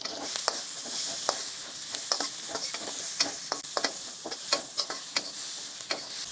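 Green chilies and onion sautéing for chicken chili onion. A soft, steady sizzle sits under repeated sharp clicks of a spatula stirring in the pan, fairly quiet and close, with no talking.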